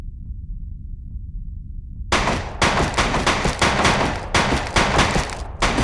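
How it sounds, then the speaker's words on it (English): A submachine gun in the Die Hard Vendetta shooter rattles off after a brief quiet lull, loud close bursts of rapid shots with short gaps between them, ending abruptly. "Let's try out a submachine gun."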